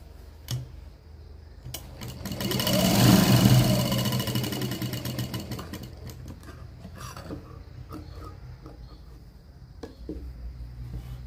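Sewing machine stitching a lined blouse, a steady mechanical whir that swells louder midway and then eases into quieter running, with a few sharp clicks near the start and end.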